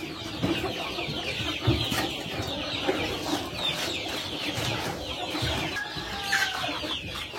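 Sentul free-range village chickens cluck steadily on a farm, several birds overlapping in a continuous close chorus with a few louder calls standing out, and no voices over them.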